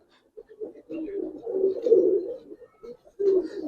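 A female Giribaz pigeon coos close by in a series of low throbbing calls, swelling into a longer burst, with brief pauses between them.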